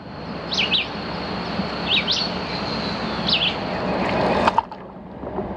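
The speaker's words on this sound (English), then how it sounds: "The birds and bugs and frogs add harmony to the rhythm of the water." Birds chirp by water on a misty spring morning after an evening rain, three bright repeated bird calls standing out over a constant trickling wash, with a brief sharp knock near the end.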